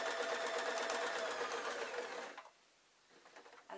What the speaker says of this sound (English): I'm literally pulling this side down to where I want to sew it.